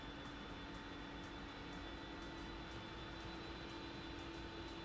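Steady broadband hum and whine of an iniBuilds A300-600R airliner's engines inside a flight simulator game, constant and unbroken with no voices.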